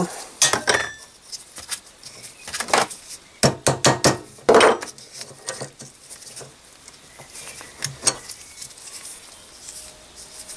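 Metal clanks, taps and knocks come in irregular bursts during removal of a pivot axle from the upper suspension arm of a 1954 Panhard Junior. Some strikes are sharp and loud, with quieter pauses between them.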